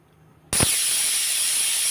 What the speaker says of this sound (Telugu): ఇదిగోండి విజిల్స్ వేసేస్తుంది కదా